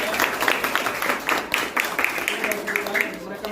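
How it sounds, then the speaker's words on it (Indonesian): Applause for a student group in a classroom during a teaching assessment, steady clapping from several people close by, lasting the whole few seconds with no break. "Beri aplaus untuk kelompok."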